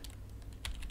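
Quick, light keystrokes patter on a computer keyboard, a soft rapid run of clicks close by with no voice over them.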